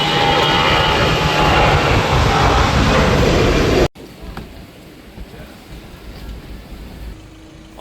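A steady, loud roar of an airplane engine drones inside the passenger cabin in flight, then cuts to a quieter, muffled hum.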